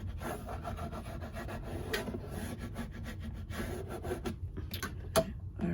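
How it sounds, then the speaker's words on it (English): A scraper tool rubbing vinyl down onto transfer tape in a Cricut craft project, a steady close-up rasping and rubbing with a sharp tap near the end. "So let me go ahead and just scrape that part down here."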